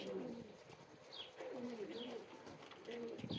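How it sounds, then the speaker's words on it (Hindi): Teddy breed pigeons coo in soft repeated rolling calls with a brief higher chirp in between, close but quiet, while someone talks nearby. "ये कबूतर असल टैडी है बेटे।"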